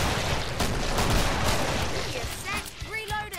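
Hand cannon pistol gunfire from the Killing Floor co-op shooter on the Biotics Lab map, with dense loud shot bursts in noisy game combat and a voice briefly audible near the end.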